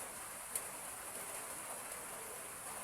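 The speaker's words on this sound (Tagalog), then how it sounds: "Malakas niyang ulan guys." Steady hiss of heavy rain falling continuously, a broad even wash of sound with no voices.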